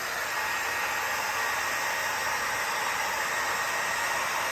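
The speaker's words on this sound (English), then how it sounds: "now I'm going to be taking my hair dryer and see what happens next" A hair dryer blows steadily and loudly, a constant rushing whoosh with no pauses or voices.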